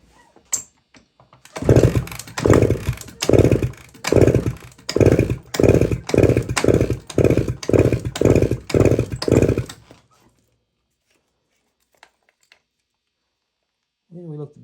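A 1972 Suzuki TS185 two-stroke engine is turned over with the choke off and full throttle, about a dozen loud, evenly spaced chugging bursts up close, then it falls silent.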